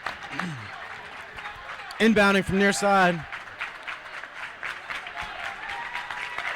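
A crowd at a high school boys basketball game between West Milford and Lakeland applauds and cheers steadily in a gym, joined by a brief burst of shouting. A commentator speaks over the noise.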